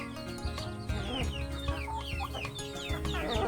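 Chickens clucking steadily while being fed Jamaican cherries, a close flock of overlapping clucks and short calls with no talking.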